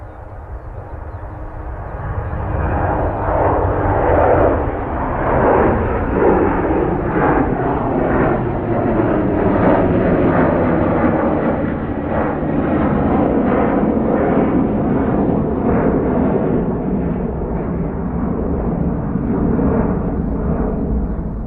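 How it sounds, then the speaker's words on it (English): A Jet2 airliner at Manchester Airport roars past, its loud jet engine noise building quickly and holding as a broad, sweeping rumble for about twenty seconds. "Steve, where's that Jet 2 going?"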